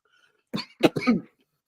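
A single short burst of coughing, two or three quick hacks close up, in an otherwise quiet room.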